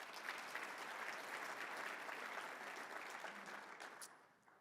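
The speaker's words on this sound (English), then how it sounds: "Please give them a big round of applause." An audience at a real estate standards conference claps warmly, a dense, steady round of applause for several seconds that tapers off at the end.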